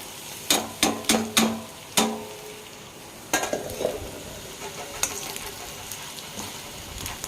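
Spice powders being stirred into frying gobi fried rice, opening with several sharp metal clanks of a spoon on the pan, then scraping stirs over a low steady sizzle, close and without speech.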